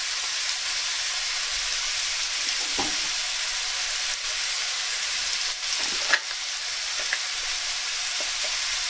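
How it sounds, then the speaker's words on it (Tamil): Onion fries in hot oil for a quick vegetable sambar, a steady loud sizzling hiss broken by a few faint clinks and stirs, with no one talking. "இதோட கொஞ்சோண்டு வெங்காயம் சேர்த்துடணும்."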